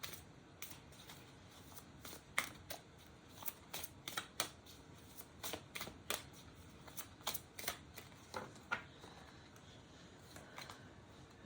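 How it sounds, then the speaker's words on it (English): Tarot card decks being shuffled by hand, quiet and close, with repeated soft riffling bursts and card flicks in an irregular rhythm throughout, no talking. "Okay, we'll do 5 more shuffles."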